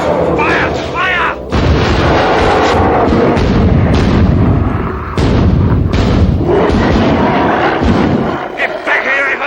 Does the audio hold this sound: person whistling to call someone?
no